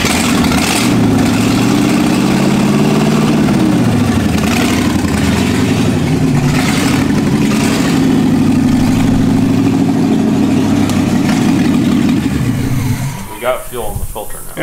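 A Jaguar car engine running after sitting for eight months, a loud rough idle with rising and falling revs, steady and close, fading as the engine cuts out near the end, with people talking over it.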